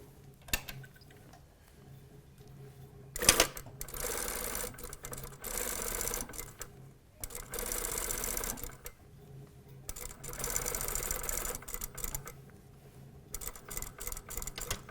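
A sewing machine stitches vest panels right side to right side with a short stitch length, running in several quiet bursts of steady whirring separated by pauses, with faint handling noises and no talk.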